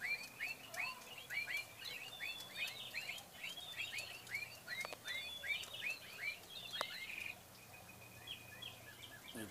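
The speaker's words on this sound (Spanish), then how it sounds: "Mis pericos." Parakeets chirp in quick, bright bursts, a busy cluster of sharp calls that thins out near the end against a quiet background.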